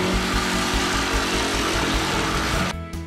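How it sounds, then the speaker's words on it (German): A loud, continuous power saw whine with a rhythmic low pulsing, cutting a parquet floorboard to width, running steadily before cutting off near the end. "Anschließend sägen Sie die Diele auf die passende Breite zu."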